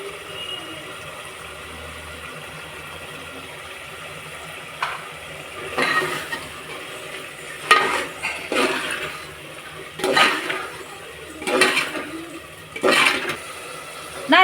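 Water poured into basmati rice for mint coriander pulao in a pot, heard as several separate splashing gushes spaced a second or two apart over a low quiet background, close and moderately loud.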